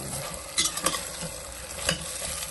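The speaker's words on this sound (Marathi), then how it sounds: "आणि आपण आता ह्याला छान परतून घेऊया या सगळ्या भाज्या." Vegetables stir-fried in a pan, with close scraping and tossing strokes over a continuous soft sizzle, a few sharper stirs standing out, no voices.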